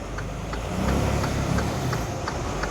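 A leased truck being parked in the US, giving a steady, fairly loud engine rumble with a broad mechanical hiss and faint periodic ticks throughout.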